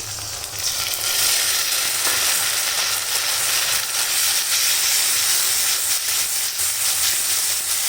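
Fried onion cooking down with a ginger, garlic, cumin and coriander paste in hot oil, giving a constant loud hissing sizzle close by with light stirring.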